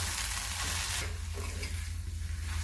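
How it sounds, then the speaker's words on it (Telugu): Garlic okra curry being stirred after salt and coriander powder go in, a steady close scraping and sizzling in the pan that runs throughout, with no one talking. "వీటన్నిటిని చక్కగా కలుపుకుందాము."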